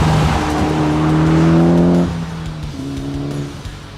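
A tuned Mitsubishi EVO X on a road test gives a loud, close engine drone with steady rising tones that drop off as the throttle lifts, then pick back up, with tire noise beneath.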